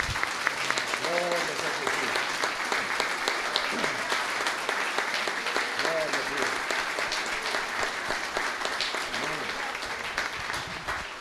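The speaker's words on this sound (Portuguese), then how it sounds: "Vamos aplaudir o nosso Deus," A church congregation at a worship service claps in sustained, dense applause that fills the room, while a voice speaks and sings over it at moments.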